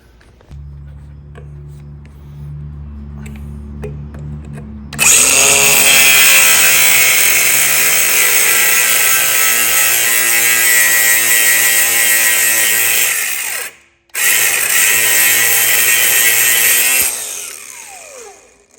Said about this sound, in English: So I'm gonna cut these bolts off anyway